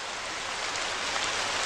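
Steady rain falling, a dense even hiss of drops at constant loudness throughout, with no voices.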